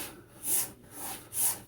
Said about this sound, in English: Right now I'm just going to run it across my cotton strop here, dry the blade.